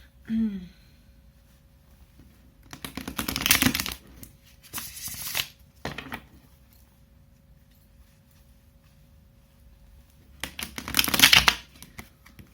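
Several separate bursts of close tarot card shuffling, crisp riffling rasps with quiet gaps between, plus a brief voice at the start.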